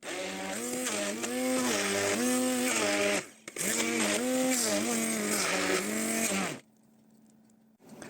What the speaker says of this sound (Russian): Творог блендером доводим до гладкости.